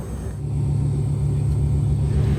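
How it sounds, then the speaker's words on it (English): Aboard a QantasLink Boeing 717, a BMW Rolls-Royce RB715A130 turbofan starts with help from the auxiliary power unit, the cabin's low engine hum swelling slightly after a moment and then holding steady with a thin high whine. "It's a great sound as the BMW Rolls-Royce RB715A130 turbofans start, with the left first with the help of the auxiliary power unit"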